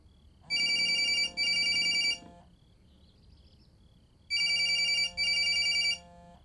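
An old-style telephone rings on the line while a call is being placed, giving two pairs of loud trilling bell bursts separated by a pause, clear and up close.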